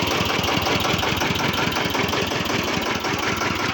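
A modified Maruti Gypsy jeep engine idles steadily up close, a loud, continuous low rumble with a fast, even throb and no pauses.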